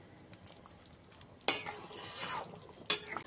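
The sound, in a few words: stirring fish roe curry in a pan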